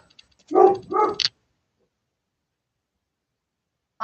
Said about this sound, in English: I don't understand what he's barking about.